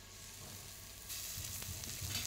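Chopped tomatoes sizzle in a hot pan of oil for a spicy Bengali fish curry with folui fish and turmeric, a steady frying hiss that grows louder and brighter midway, with faint stirring scrapes near the end.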